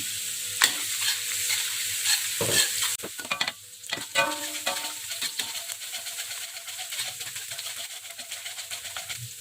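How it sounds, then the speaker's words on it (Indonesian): Four sliced shallots sauté in a pan for gulai kuning, giving a steady loud sizzle broken by scraping stirs and clinks of the utensil, with a softer, continuous frying hiss toward the end. "Kita tumis hingga mengeluarkan aroma yang wangi."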